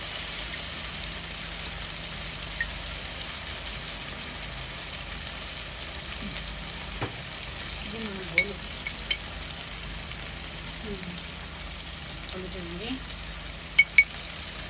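Onions fried with turmeric and chili sizzle steadily in a pan, a constant close hiss with a few faint stirring scrapes and clinks, and no talk over it.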